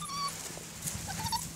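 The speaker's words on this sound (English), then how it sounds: "Good puppy. Good puppy. He's a funny dog." Small puppy from a litter giving soft, high whimpers and brief yips indoors, close by and fairly quiet, with faint background noise.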